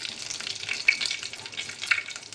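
Curry leaves, cumin and mustard seeds sizzle and crackle in hot oil in a pan, a steady close frying hiss with occasional sharp pops.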